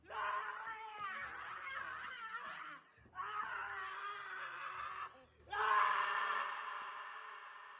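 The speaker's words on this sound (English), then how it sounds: "Never get tired of that scream," A scream sound effect in a podcast intro, a loud, drawn-out shrieking voice in three bursts separated by brief gaps, the last burst the strongest and longest, with no one speaking over it.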